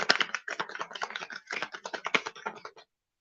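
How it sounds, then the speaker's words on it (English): Cards riffle and snap together in quick, crisp bursts, close up, as a deck is shuffled, with no talking. "Finish out the shuffle."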